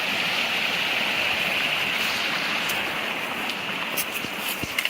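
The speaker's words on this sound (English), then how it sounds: "I like that I'm back near the rivers" Steady rushing water from a river stream flowing right beside a hiking trail in the foothills, a continuous broadband wash with faint drips and splashes near the end.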